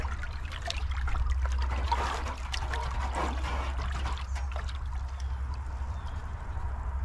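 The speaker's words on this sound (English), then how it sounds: "I guess now I'm stirring water" Water with dissolved borax stirred by hand using a repurposed wooden axe handle, giving close trickling and sloshing sounds over a low steady rumble, with no talking.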